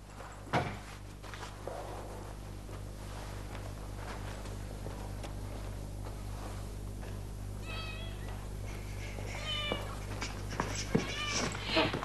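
A cat meows several times late in the clip, short wavering cries close by over a quiet indoor hum, preceded by a sharp knock and light handling noises.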